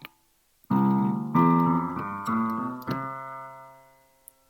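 Ascending eight-note Western scale from the first degree, played on a plucked or keyboard-like instrument; each note rings out distinctly one after another, clear and close with no speech.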